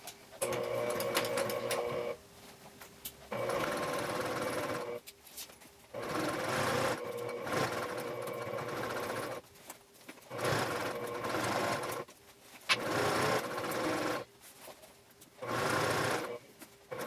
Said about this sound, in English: we'll take this over to the sewing machine and we'll top stitch along our previous top stitching